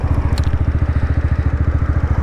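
AJS R7 125 sports motorcycle engine running steadily at close range, a loud, even, rapid low-pitched pulsing with a faint rattly edge, no talking.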